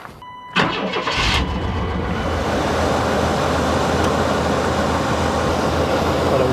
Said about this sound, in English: Let's put the battery back in, crank it up.